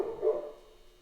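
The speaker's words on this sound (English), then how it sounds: "The dogs are happy about it" Dogs bark in a short burst that peaks early and quickly fades to a faint tail, fairly quiet and with no talking.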